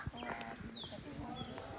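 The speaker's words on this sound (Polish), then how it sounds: "takie kury sobie chodzą, ładne" Chickens roam a yard in Zanzibar, giving soft clucks and brief calls nearby, partly under people talking.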